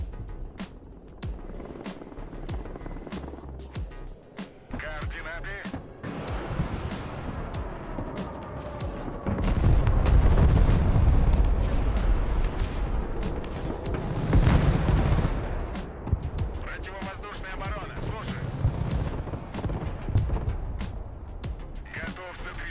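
Artillery shells landing in the real-time war game Broken Arrow, a sustained roar of heavy booms and rumbling impacts that swells louder midway, with someone talking over the battle noise.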